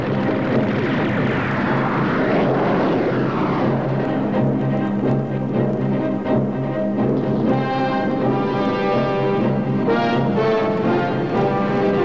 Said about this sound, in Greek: Εχθρικό αεροσκάφος από δυτικά.